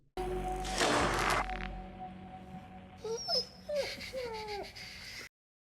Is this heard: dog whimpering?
yes